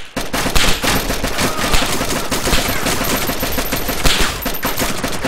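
Sustained AKM automatic fire in a shooting video game, dense rapid bursts of loud gunshots running continuously with no voices over it.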